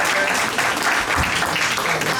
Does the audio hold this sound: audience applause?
yes